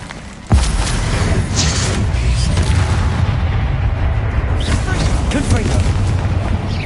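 A loud boom from the fiery Confringo spell exploding in Hogwarts Legacy, followed by a sustained rumbling roar, with a voice speaking over it.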